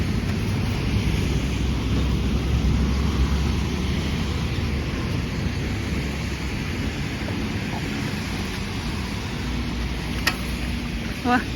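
Heavy rain roars steadily and broadband throughout, a dense constant wash with a brief sharper click near the end.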